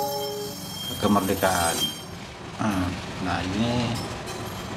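A CC 206 diesel locomotive of the Parahyangan train idles at a station with a steady mechanical drone and whine, while someone talks over it in Indonesian.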